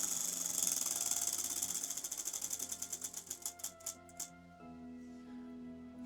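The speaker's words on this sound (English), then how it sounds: "I really like the clicky sounds it makes when it rotates" A secondhand spinner rotates with a quiet, rapid clicking that gradually slows into separate distinct ticks before stopping, leaving a steady background tone.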